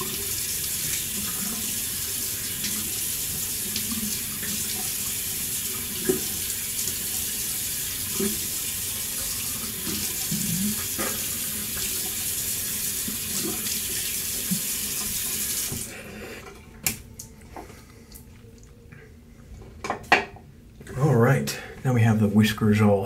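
Hot water runs from a tap for wet shaving, a steady rushing stream that lasts about sixteen seconds before it shuts off abruptly. Scattered clicks and handling sounds follow the shutoff.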